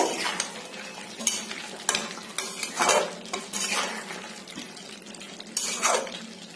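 A spoon scrapes and stirs local chicken kosha with garam masala powder in a pan, with repeated irregular strokes over a soft, steady sizzle and occasional clinks of metal on metal.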